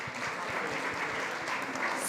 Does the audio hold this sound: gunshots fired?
no